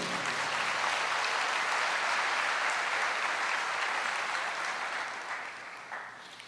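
A church congregation applauding at a Portuguese-language sermon, a dense, steady wash of clapping from many hands that holds for several seconds and then thins and fades toward the end.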